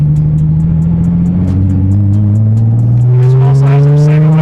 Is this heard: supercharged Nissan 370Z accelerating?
yes